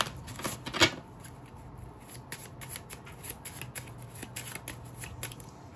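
A deck of playing cards is shuffled up close in a quick burst of riffling, followed by repeated soft flicks and snaps of cards being handled, without talking.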